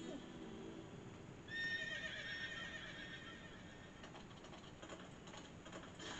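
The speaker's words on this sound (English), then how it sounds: "Oh, hey, it's that horse again." A horse neighs in the video game Princess Peach Showtime, a rising whinny over a busy backdrop of game music and effects, with faint clip-clop-like knocks toward the end.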